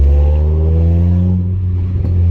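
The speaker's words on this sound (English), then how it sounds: "Right now we're with the gray Sentra. As you can see, it is running after the swap." A gray Nissan Sentra's engine runs after an engine swap, a loud, close, steady low drone with a slight pitch dip partway through and no talking.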